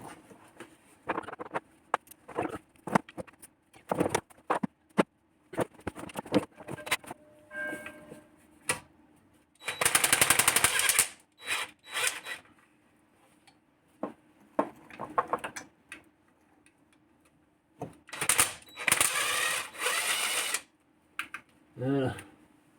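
A ratchet with a 10 mm socket clicks in intermittent rapid bursts on the oil pan of a Peugeot 206cc 2.0 S16, close and crisp, with brief speech in between.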